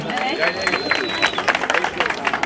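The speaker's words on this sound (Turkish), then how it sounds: "Kocaman bir alkış alalım." Crowd applause at the Kemer Yörük Festival, a steady patter of many hands clapping with a background murmur of voices and a faint high tone drifting across.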